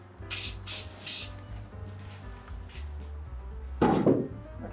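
Truck bed liner sprayed through a round nozzle onto an OBS Chevy truck bed: three short hissing bursts close by, followed by a longer, louder spray near the end.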